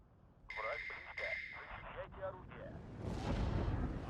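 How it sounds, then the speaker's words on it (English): Bombing strikes in the strategy game Steel Division 2: a deep, booming rumble of detonations swells in the last second, after a stretch of radio-like voice chatter and quieter battlefield noise. "Dodge those bombing strikes."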